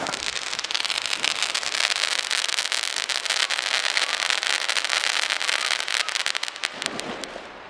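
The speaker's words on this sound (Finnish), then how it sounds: "rakettien paukuttelemista ja tämmöstä" New Year's fireworks rockets bang and crackle in a dense, continuous barrage of sharp bursts, loud and sustained throughout, thinning slightly near the end.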